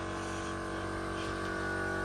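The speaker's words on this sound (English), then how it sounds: "You can hear the compressor running in the background" Air compressor running steadily in a home garage during car painting and engine-swap work on a Ford AU Fairlane, a faint continuous mechanical hum with a constant tonal drone and no pauses.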